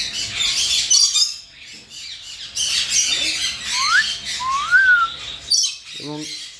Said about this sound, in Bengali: এবং এইটা কিন্তু একটা টকিং বার্ড ফিমেলটা, সেটা মোটামুটি সব কথাই বলে।